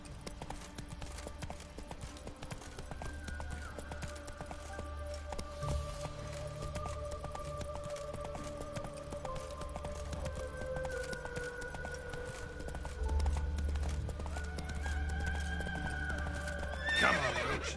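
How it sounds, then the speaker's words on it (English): Hooves clip-clop steadily at a gallop while a horse neighs and whinnies in The Witcher 3, under a busy continuous game soundscape with tonal music, growing louder near the end. "Come on, Roach"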